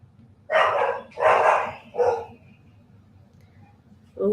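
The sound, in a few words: dogs barking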